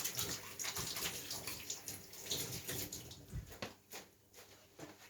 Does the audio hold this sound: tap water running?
yes